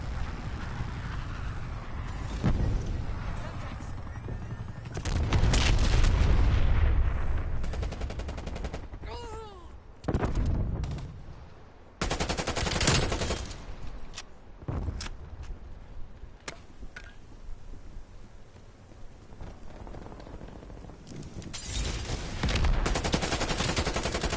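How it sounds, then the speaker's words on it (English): In Call of Duty Black Ops Cold War, a cruise missile strike sets off a series of heavy booming explosions mixed with gunfire bursts and crackling debris, loud and close, with brief in-game voice callouts. "Enemy cruise missile launch detected."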